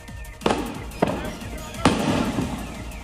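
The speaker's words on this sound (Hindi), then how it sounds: "बताया जा रहा है कि ये धमाके दुकान में रखे फ्रिज के कंप्रेसर के फटने से हुए।" Explosions from a burst refrigerator compressor during a shop fire: three sharp, loud blasts at uneven intervals, each with a short echoing tail, over steady crackling and background noise.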